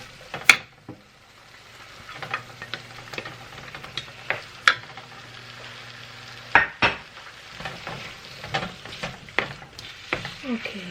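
Shrimp hit a hot pan and sizzle steadily, with sharp clinks and scrapes of stirring on top, close and fairly loud, with no talking.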